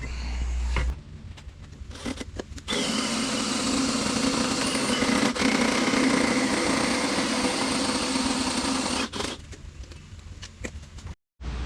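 A roll cage tube for a Jeep Cherokee is notched with a power cutting tool, giving a loud, steady high-pitched whine and grinding that runs for several seconds between shorter starts and stops, close by.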